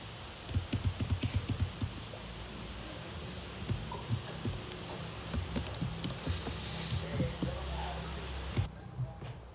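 Rapid keystrokes on a computer keyboard come in quick bursts of clicks, close and fairly quiet, with short pauses between runs over a low background hum.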